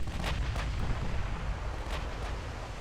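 Heavy battleship gunfire in the naval strategy game Ultimate Admiral: Dreadnoughts, US battleships in action, with a steady low rumble and several sharp booming shots spaced across the moment, no talk.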